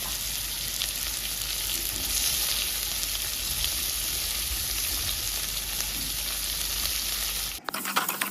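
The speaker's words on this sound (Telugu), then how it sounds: "టమాటాలు బాగానే ఫ్రై చేస్తున్నానండి." Chopped tomatoes fry in a pan with onions and green chillies as the base for a fish curry, a loud, even sizzle that holds steady for several seconds and then cuts off abruptly near the end.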